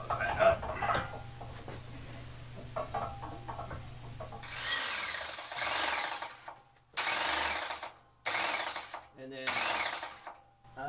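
Electrified shop press bending steel to about 45 degrees in a brake die, four loud motor bursts of roughly one second each with quiet gaps, after a stretch of quieter shop noise.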